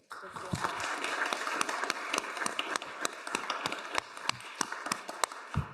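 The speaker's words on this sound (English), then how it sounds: "I wanted to give them another round of applause for sharing their insights with us today" Audience applause closing a panel colloquium on urban resilience to extreme heat, dense irregular clapping with sharp individual claps standing out, close and sustained for several seconds.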